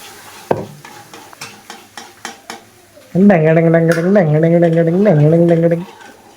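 Pav bhaji is stirred in a pan, a spoon clinking and scraping in quick taps, then a loud sustained sizzle as it fries. A voice speaks over the cooking.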